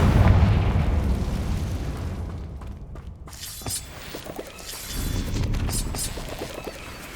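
In the Hogwarts Legacy video game, a Confringo fire spell bursts with a loud, rumbling explosion that decays, followed by crackling debris and a second swelling blast.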